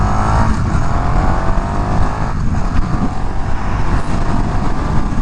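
KTM Super Duke 1290 R Evo motorcycle on the road, a loud continuous engine roar with strong wind rush, rising and falling in pitch as the rider accelerates.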